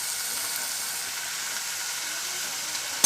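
Purple cabbage, onion and tomato fry in a pan, giving off a soft, even sizzle that hisses steadily throughout without any talking.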